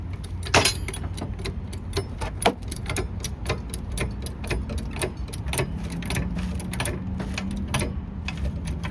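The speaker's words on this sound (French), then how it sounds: "on commence par lever le véhicule." Mechanical whirring and rapid ticking from a lift raising a Peugeot Expert 2 van before front brake disc and pad replacement, a steady close drone with repeated sharp clicks throughout and no talk.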